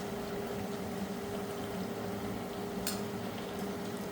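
Spicy dangar puris fry in hot oil, a steady, even bubbling sizzle that holds at a constant level, with one brief brighter crackle partway through.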